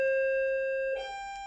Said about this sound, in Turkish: kapı zili çaldım